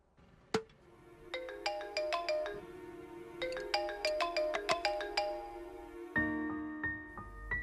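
A mobile phone ringtone plays in a film scene, a bright repeating electronic melody in two phrases with a short pause, then a change to a different tone near the end, clear and alone without voices.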